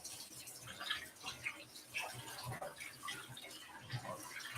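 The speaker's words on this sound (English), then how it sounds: "I'm rinsing the rice over here." Rice being rinsed in water while cooking, a soft continuous splashing and trickling with small swishes, faint and fairly close.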